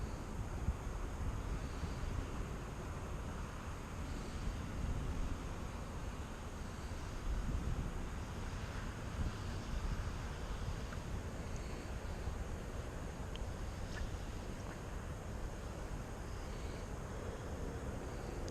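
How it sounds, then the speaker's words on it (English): Wind rushes steadily outdoors during a drone flight in a headwind of roughly 10 to 12 miles an hour, a constant broadband roar of buffeting against the microphone with no pauses or voices. "got a good headwind, probably about 10-12 miles an hour"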